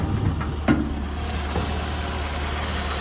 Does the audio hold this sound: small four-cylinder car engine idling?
yes